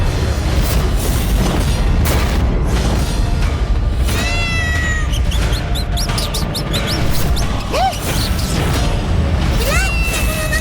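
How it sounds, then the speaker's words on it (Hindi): Demon cat in a Ganesh mythological TV show meowing in repeated rising, wavering cries over dramatic booming music and crashes, loud and close. "उस आसुरी बिल्ली तक मूषक जी की गंध पहुंच गई है।"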